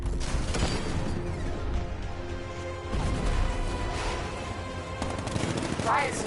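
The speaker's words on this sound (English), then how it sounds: ".60mm cannon operational." Heavy tank cannon fire in Batman: Arkham Knight, a dense run of booming blasts and crashing impacts over a loud, constant mechanical din.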